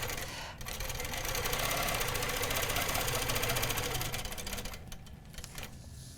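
A sewing machine stitches fabric along a quilting ruler template in a steady, rapid mechanical chatter. It runs continuously for several seconds and then stops with a few slower clicks near the end.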